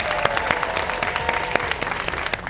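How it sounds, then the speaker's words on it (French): Studio audience applause for a coach and participants during a French-language sports segment, a steady dense clapping throughout with sharp individual claps popping out above the wash. "On les applaudit!"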